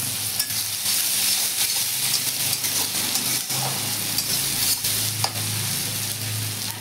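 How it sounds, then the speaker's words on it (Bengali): Chopped onion, garlic and ginger fry in a pan with cumin, giving a steady, close sizzle throughout, with a few soft clicks and scrapes of stirring over it. "একটু ভেজে নেব।"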